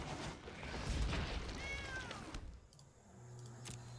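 A cartoonish cat meow sound effect plays as a Sacred Cat card enters in Magic Arena, the video game, with gliding pitched cries over busy game audio, then a quieter tail with a steady low tone.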